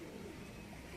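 Released domestic pigeons, part of a group of seven, give soft cooing calls under a steady wash of outdoor background noise, faint and brief.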